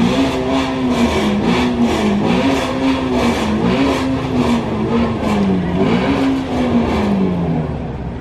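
A Ford Mustang Shelby GT350's flat-plane-crank engine revs and drones loudly and continuously, pitch rising and falling in waves, close by.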